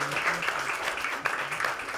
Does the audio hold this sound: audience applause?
yes